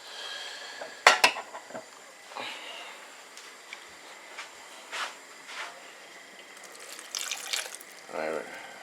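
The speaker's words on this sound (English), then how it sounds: "There's a lot of washing up left for me." Washing up by hand: dishes, pots and cutlery clink and knock sharply now and then over a soft, steady trickle of running water, fairly close, with no voices.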